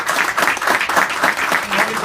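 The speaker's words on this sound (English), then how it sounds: "I think we should all give Tony a round of applause." An audience applauds Tony Modica at a political rally in Howard Beach, with dense, continuous clapping from a crowd heard up close for a couple of seconds.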